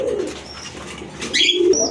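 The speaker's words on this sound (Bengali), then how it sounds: "আরেক জোড়া কবুতর দেখতে পাচ্ছেন" Pigeons coo softly and repeatedly, low murmuring calls close by, with a couple of brighter chirps near the end.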